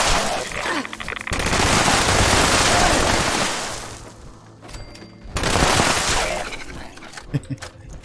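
A two-shot explosive light machine gun in Fallout 76 fires in long bursts of rapid shots with explosive cracks. A short pause sits between the two loud sustained volleys, followed by scattered sharper impacts.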